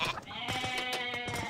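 Goats bleat in an Age of Mythology match, a few wavering, nasal calls overlapping close together in a short burst with a steady game background and no talk.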